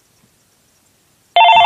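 A telephone rings in the Minecraft Pocket Edition game, a loud electronic ring that starts abruptly after a near-silent second and continues steadily to the end.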